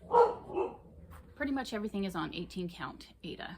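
A dog barks twice in quick succession, a short near yip, followed by someone speaking over faint background noise.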